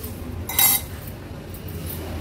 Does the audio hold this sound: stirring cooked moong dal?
yes